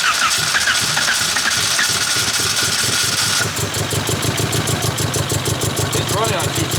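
A VW Corrado engine cranks and then catches on only two cylinders, settling into a rough, uneven, pulsing idle heard up close, with people talking over it.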